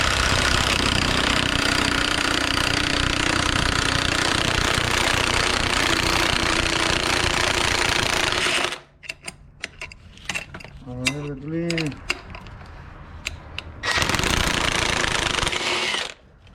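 An impact wrench with a 13 socket removes a bolt from an LS-swapped car being lowered, giving a loud, continuous rattling hammer for about nine seconds, then stopping, followed by quieter clanks and squeaks and a brief second burst.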